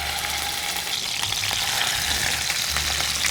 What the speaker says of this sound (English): So I'm gonna sear them in the pan to get them brown everywhere.